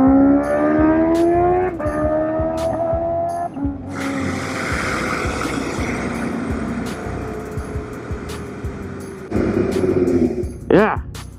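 A Kawasaki Ninja H2 motorcycle being ridden, its engine revving and climbing in pitch through several gear changes, then a steady loud roar with wind noise and a final sharp rev near the end.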